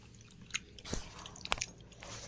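Close, quiet chewing of a bite of chicken skin curry, a few soft wet crunches and bites spread over a couple of seconds with no talking.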